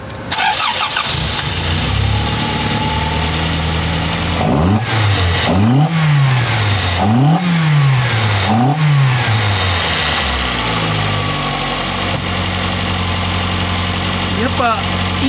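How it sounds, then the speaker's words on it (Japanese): A Toyota AE86 Trueno with a swapped engine and changed exhaust manifold starts up, then revs in several sharp rising-and-falling bursts with strong intake noise before settling to idle. Voices talk over it. "やっぱいい吸気音しますよね。"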